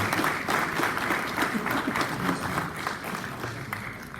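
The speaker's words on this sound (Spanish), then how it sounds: "Un fuerte aplauso" Sustained applause from a seminar audience, a dense wash of many hands clapping steadily throughout, fairly close and moderately loud with no voices on top.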